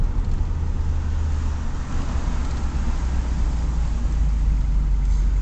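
A 1982 Pontiac Trans Am slows to a stop, its engine a low steady rumble with road and cabin noise, heard from inside the car without talk.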